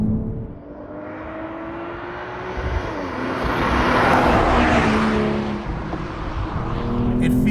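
A BMW M240i engine at full throttle, a loud, steady roar that rises in pitch and then holds as the car accelerates, heard alone with no talk.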